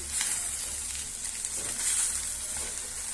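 Eggs set like an omelette sizzle steadily in a pan for a simple tamarind-leaf egg curry, a close, even frying hiss with no talk.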